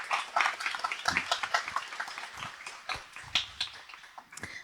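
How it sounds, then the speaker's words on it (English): An audience claps at a plant-based panel discussion at a conference, with a scattered, moderately quiet patter of hands that peaks early and thins out without fading completely. "let's welcome them with a round of applause"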